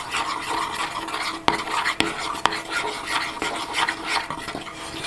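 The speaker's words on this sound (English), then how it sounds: "I'm just gonna keep stirring." A spoon stirs melting pink chocolate in a bowl for hot cocoa bombs, giving a soft continuous scraping and rubbing with a few sharp clinks against the side.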